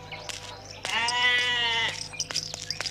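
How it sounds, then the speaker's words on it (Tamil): A goat bleats once in a long, wavering, nasal cry lasting about a second, close and clear, with faint background noise before and after it. "ஆடு நம்ம ஆடு, நம்ம நல்லா சாப்பிட வேண்டிய ஆட்டு"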